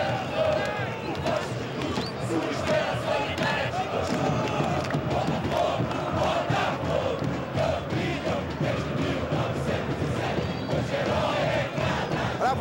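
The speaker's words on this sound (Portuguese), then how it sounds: "Torcida do Botafogo feliz da vida." Botafogo football supporters in a packed stadium during a Brazilian league match against Corinthians, a dense, loud roar of crowd noise and chanting that runs steadily throughout without letup.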